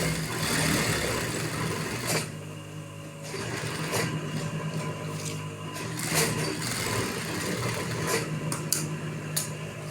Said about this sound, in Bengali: প্রথমে আমি এটা সেলাই করতেছি